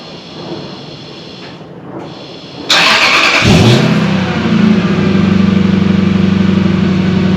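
A car with its muffler and catalytic converter removed fires up with a loud burst of noise, then settles into a deep, rumbling idle. The music playing beforehand cuts off.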